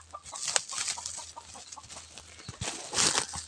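Chickens cluck in short, scattered bursts at close range, with rustling and a low steady hum underneath.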